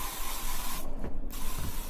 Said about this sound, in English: Usually I just spray the fabric.